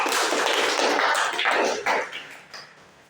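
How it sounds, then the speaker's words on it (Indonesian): A classroom of students applauds a group returning to their seats, a dense burst of many hands clapping that holds steady for about two seconds before thinning out and fading. "Sekali lagi kita kasih tepuk tangan buat teman-teman"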